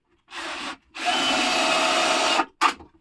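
Cordless power drill driving screws into a wooden beehive, three close, loud bursts of whirring, the middle one long and steady, the last short.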